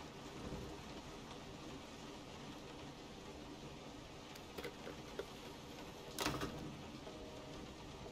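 Steady rain pours during a thunderstorm in Resident Evil 7, with a short, louder rumble of thunder breaking through near the end.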